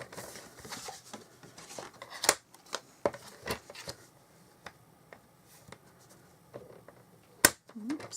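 Scissors trim paper for a handmade Stampin' Up card, giving a few quiet, irregular snips and rustles close by with soft handling noises between them.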